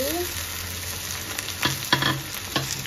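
Okra being stirred into potatoes in a frying pan, sizzling steadily with a few sharp clanks of a spoon against the pan in the second half.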